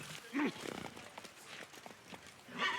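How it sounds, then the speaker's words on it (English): A few hoofbeats from a player's horse being mounted in a video game, quiet clops spread over a couple of seconds amid soft game ambience and a passing voice. "Oh, there we go, Mount Roach."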